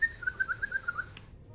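A person whistles in imitation of a bird call, a warbling tone of quick repeated pulses that runs for about a second and ends in a short sharp click, clear and fairly close with no talking.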